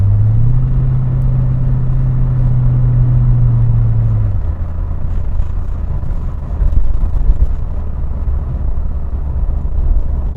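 A 1994 Corvette C4 with a 4-speed automatic accelerates, heard from inside as a steady engine drone that drops away into deeper road rumble and wind noise, loud and continuous.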